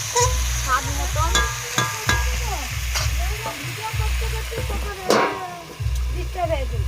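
Potatoes sauté in a pan with a steady sizzle, broken by repeated scraping and stirring strokes at a roughly regular pace, with voices audible in the background.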